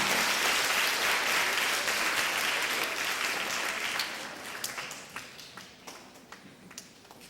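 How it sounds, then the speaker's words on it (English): A school assembly audience breaks into sustained applause, dense and loud at first, then thinning out into scattered individual claps toward the end. "Let's give Miss Zenaida Rogers a big, big round of applause."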